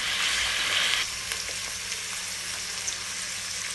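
Green chillies, curry leaves and cooked peas frying in a pan, with a steady loud sizzle that eases after a second, then light stirring taps over a continuous hiss.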